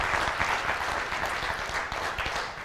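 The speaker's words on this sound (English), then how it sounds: "Can we give them one last round of applause?" An audience at an evening show gives the performers a final round of applause: dense, loud, continuous clapping from a crowd throughout.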